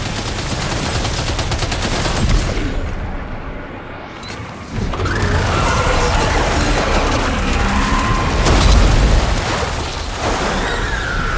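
Heavy, sustained gunfire in the video game Death Stranding 2, a loud, dense wash of rapid shots that runs almost without break and dips briefly midway.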